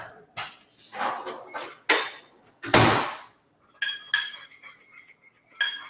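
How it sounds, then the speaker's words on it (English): A spoon stirs flax eggs, ground flaxseed mixed with boiling water, in a bowl for beet sliders, making a series of close, bright clinks and scrapes in short bursts separated by brief pauses. "And it takes just a little bit of stirring just to incorporate this all together."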